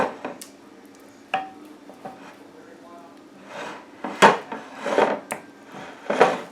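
Thick vegan roux spooned into the bottom of a casserole dish for a tuno noodle casserole, giving soft scrapes and clinks of spoon against dish in short bursts, with a few louder knocks near the end and faint talk in places.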